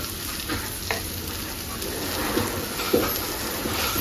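Stuffed okra fries in oil in a pan, a constant rain-like sizzle broken by a few soft knocks and scrapes as the pieces are turned over.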